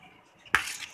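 Tandoori chicken marinade spices and lemon juice being mixed in a bowl, a short quiet scrape followed by one sharp clink of utensil against the bowl with a brief ringing tail.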